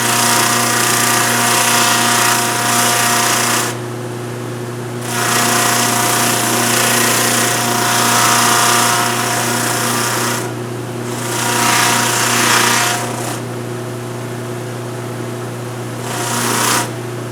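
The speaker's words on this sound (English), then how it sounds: "I'm going to end up sticking my fingers right down in that sander, and it's not going to hurt anything." A power sander whirs steadily while smoothing a bear claw for a necklace, its broadband grinding rising and falling in several bursts as the claw is pressed against it, with a constant motor hum throughout and no voices.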